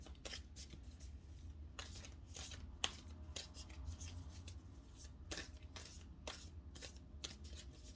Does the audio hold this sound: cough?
no